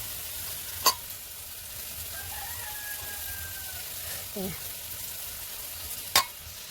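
Potatoes fry in a pan, giving a soft, steady sizzle in a quiet kitchen. A few sharp clicks and a faint squeak break through now and then.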